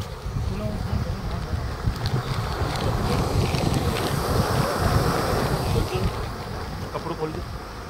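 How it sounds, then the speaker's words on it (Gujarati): A large volume of water rushes steadily down into a borewell for recharge, a continuous loud roaring gush with broadband turbulence, with a voice faintly present. "તમે જોઈ શકો છો પાણીનો કેવો અવાજ આવી રહ્યો છે, ખૂબ જ માત્રામાં પાણી અંદર જઈ રહ્યું છે"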